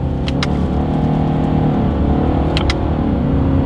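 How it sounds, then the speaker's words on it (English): A 2023 Subaru Outback with a CVT pulling away from a stop, heard from inside as a loud, steady engine drone with droning harmonics and road rumble, punctuated by a few faint clicks. "let's see how quickly these paddle shifters are going to react for us here"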